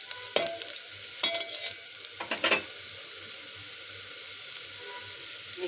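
Onions being sautéed in hot oil in a pot for mutton curry give a steady, fairly quiet sizzle, broken by a few short scraping stir sounds near the start.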